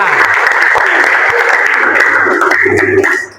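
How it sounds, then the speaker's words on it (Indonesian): Applause in a classroom, a burst of many hands clapping together, loud and close, lasting a few seconds before cutting off. "Tepuk tangan untuk kita semua."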